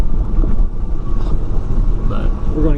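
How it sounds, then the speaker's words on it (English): Steady wind buffeting the microphone at an outdoor long-range shooting session, a continuous low rumble with gusty swells throughout and faint voices mixed in underneath. "provided it's not windy as hell, like it is today."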